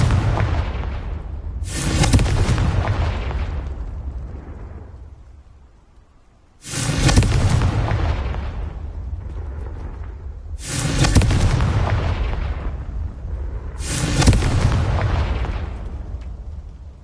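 Four heavy blasts from the Confringo spell in a video game, each a loud booming explosion with a long rumbling decay, spaced a few seconds apart with no talk.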